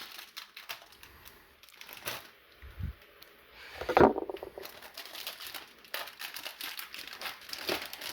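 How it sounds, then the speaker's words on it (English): A knife slices open the plastic and cardboard packaging of a Chuwi Hi10 X tablet keyboard in a series of crinkling, scraping handling sounds, with one sharp louder crackle partway through. "Doesn't look like it has a place to be opened, so I'm just going to use the knife again."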